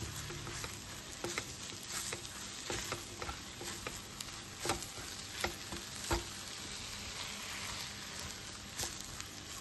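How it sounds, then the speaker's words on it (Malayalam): Mutton brain roast with coriander leaves sizzles steadily in a pan, with a spoon scraping and stirring through it in soft, irregular strokes close up, no voices present. "ഇനി നമുക്ക് ലാസ്റ്റ് കുറച്ച് മല്ലിയില ഇടാം ഇത് നമുക്കൊന്നും കൂടെ മിക്സ് ചെയ്യാം"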